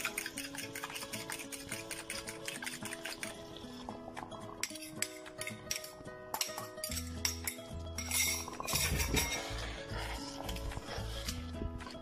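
A utensil scrapes and clinks against a bowl while crème fraîche and eggs are stirred for a potato soufflé, close-up kitchen clatter with rhythmic stirring and occasional dish knocks.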